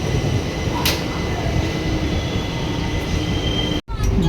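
Steady rumble and rail hiss from inside the Shalimar–Porbandar SF Express running on the line toward Rajkot, with a brief high squeal near the start and a sharp momentary dropout near the end.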